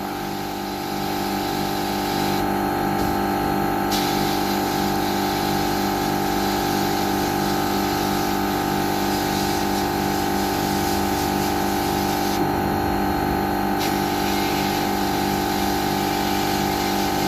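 A small, fairly weak cleaning jet blasts cast iron Massey Ferguson 35 tractor parts during paint prep, a steady close hiss and pump drone running unbroken throughout with brief brighter surges.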